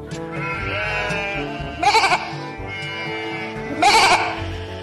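Sheep bleat close by, two loud wavering calls about two seconds apart over a background of steady tonal sound.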